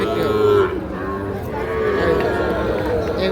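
Young bulls moo at Ambari cattle market, a series of drawn-out lowing calls close by over a steady murmur of crowd noise and background voices.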